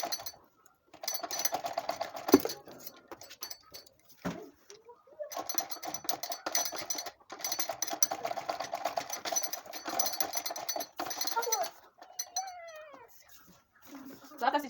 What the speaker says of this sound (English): Then you put it on top of your sewing machine. Then you stitch.